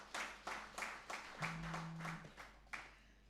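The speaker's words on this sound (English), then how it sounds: "And I think you should applaud him." Sparse applause from the audience at a Jamaican track and field coaches' awards ceremony, a handful of distinct clap bursts spaced through a few seconds, faint and distant, with a brief low hum partway through.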